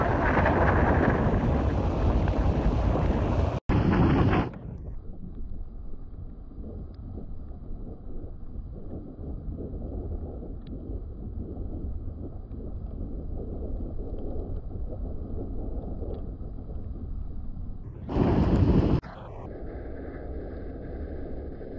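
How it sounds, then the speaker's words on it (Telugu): Mallali waterfall in Coorg during the monsoon roars up close as a loud, steady broadband rush of falling water, with wind buffeting the microphone at the start and end. "ఈ వాటర్ ఫాల్ దగ్గరకు వచ్చాక ఆ సౌండ్ వినండి ఒకసారి ఎలా ఉందో."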